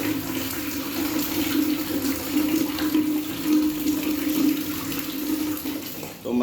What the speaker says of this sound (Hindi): पानी का प्रेशर भी देखिएगा, पूरा फुल प्रेशर आ रहा है पानी का।